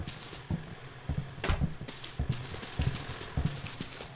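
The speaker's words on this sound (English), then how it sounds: "He's got some heavy ass footsteps." Heavy, thudding footsteps of the neighbour character in the video game Hello Neighbor sound in a steady walking rhythm, fairly close and clear, with no talk over them.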